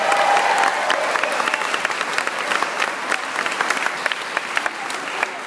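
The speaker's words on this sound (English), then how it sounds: "Please give him a big round of applause" A crowd at a President Obama event in Marshalltown applauds an introduction, steady dense clapping that holds at a loud level throughout with some scattered sharper claps.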